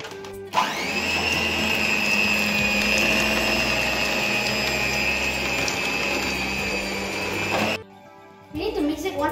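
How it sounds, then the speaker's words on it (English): An electric mixer whirs loud and steady for about seven seconds while mixing no-bake Oreo cheesecake filling, then cuts off abruptly, with no talk over it. "Now I'm going to on the mixer."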